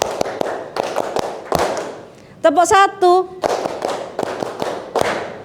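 A classroom full of students claps in a hand-clapping game, a run of sharp claps and quick bursts with a brief sung or chanted voice in the middle, followed by more scattered clapping.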